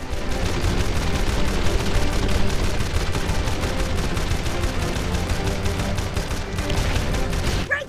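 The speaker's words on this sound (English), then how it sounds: "I think it's time we test the guns" Ship-mounted guns in the Jak and Daxter game blast at sky pirates in a loud, continuous rapid-fire barrage of overlapping shots and booms that runs for several seconds.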